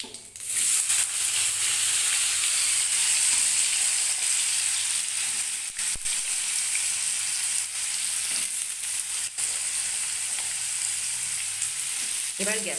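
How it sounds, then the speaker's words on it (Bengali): Washed potato pieces fry in a little oil in a pan, giving a steady bright sizzle and hiss that runs throughout, with occasional stirring scrapes. "এরপরে এখানে কেটে ধুয়ে রাখা আলুর টুকরোগুলো দিয়ে দেবো।"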